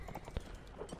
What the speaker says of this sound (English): This horse is much faster than our last one, actually, so that's good.